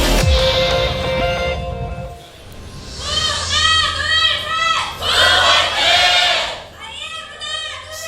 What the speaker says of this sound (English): Big cheers from the IM crowd today